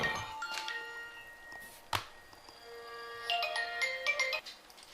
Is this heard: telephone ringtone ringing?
yes